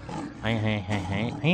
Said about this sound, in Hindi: अरे मेरे को तो शेर लग रहा है